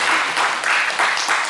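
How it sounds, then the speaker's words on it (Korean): An audience at a Korean memorial gathering about Geumjeong Cave claps steadily in a dense, loud burst of applause from many hands, with no clear talk. "여러분 박수 한번 주십시오."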